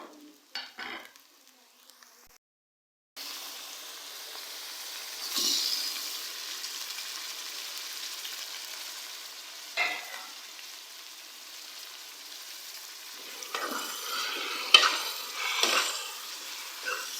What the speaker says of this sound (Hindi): कीमे को अच्छी तरह से मिक्स करेंगे